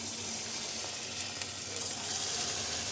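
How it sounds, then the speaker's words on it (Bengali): Pumpkin and palm fruit fritter batter hisses in hot oil in a kadai, a soft, even, continuous sizzle heard close up and alone, with no talking. "তেলটা গরম হয়ে গেছে, চলুন আমি এরপরে একটা একটা করে ছাড়ি।"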